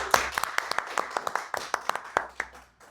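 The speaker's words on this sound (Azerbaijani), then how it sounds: "Birinci istəyirəm şirkətimizə bir alqış gəlsin." Audience applause for a company at a business presentation, scattered individual claps from a small crowd, a few seconds of uneven clapping that thins out toward the end.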